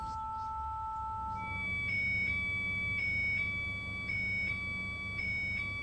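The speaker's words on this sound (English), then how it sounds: "the alarm has just gone off" An emergency alarm sounds from an HF single sideband radio, a steady electronic tone that gives way to a repeating two-tone beeping pulse, loud and close over a low background hum.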